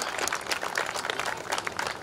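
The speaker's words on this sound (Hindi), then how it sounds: "आइए जोरदार तालियों के साथ शुरुआत करते हैं आप सभी मेहमानों के साथ जोर से तालियां" An audience at a haldi wedding celebration applauds, a dense, steady wash of clapping from many hands that holds at moderate loudness for a couple of seconds with no distinct voices.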